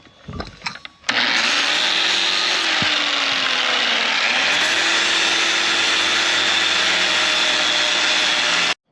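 An angle grinder grinds built-up welds flat on a PTO pump repair, a loud, steady high-pitched whine that starts abruptly after a brief clatter and runs continuously, shifting pitch slightly as it bites into the metal.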